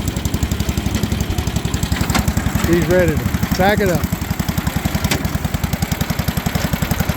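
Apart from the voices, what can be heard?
small old engine running at a tractor and engine show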